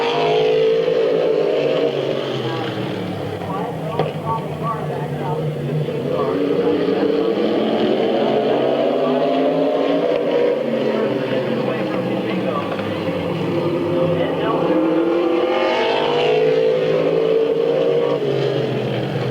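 Race cars at Midvale Speedway howl around the track, engine pitch rising and falling as cars pass, loud and continuous, with an announcer talking over the noise.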